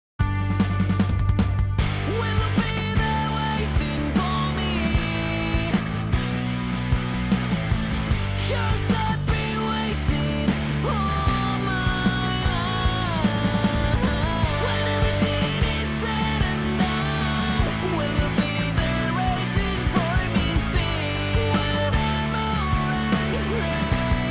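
Polished layered vocals sing over a full, dense music backing, steady and loud throughout with no pauses.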